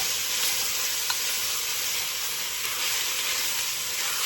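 Ground meat browning in a pot for a one-pot pasta dish gives a loud, steady sizzle and hiss that runs unbroken throughout, with a faint scrape of stirring.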